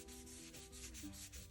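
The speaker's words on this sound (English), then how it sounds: "We'll just rub it." A gas dryer part is rubbed by hand with a mild abrasive cleaner, making a quiet, rhythmic scrubbing and rasping close by, with no voices.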